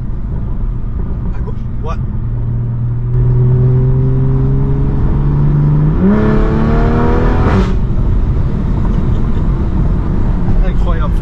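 A 2020 Toyota Supra GR, BMW-engined with 500 hp, revs and accelerates with a rising engine note that climbs through the gears and surges loudly midway. A few short words are spoken over it.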